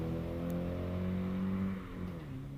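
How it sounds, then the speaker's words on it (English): A 1980 Porsche 924 racing up the Prescott Hillclimb course, its engine droning loud and steady with a rising harmonic whine, then easing off slightly near the end as it passes. "next along, so another Porsche. This is the 924, from way back in 1980"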